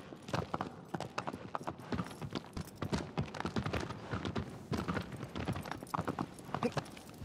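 Horse hooves gallop in a steady, rapid clip-clop rhythm through the Shadow of the Colossus video game, close and clear over soft ambient game sound for the whole stretch.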